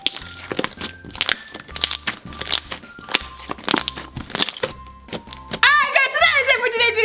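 Crunchy homemade slime with glitter is squished and squeezed by hand, giving repeated crackling, popping crunches in irregular bursts, close and fairly loud, with a burst of high clicks near the end.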